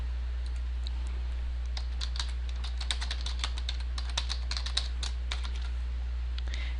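Steady clicking of a computer keyboard as a post title is typed into a WordPress blog editor, quick irregular keystrokes close by over a low constant hum, with no talking.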